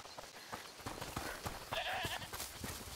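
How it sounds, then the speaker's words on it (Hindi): A goat bleats in a video game with a medieval plague setting, one wavering call standing out against steady ambient background noise. "बकरी हमें देख के चिल्ला रही है क्योंकि वो जानती है कि हम लोग इसे निकाल सकते हैं"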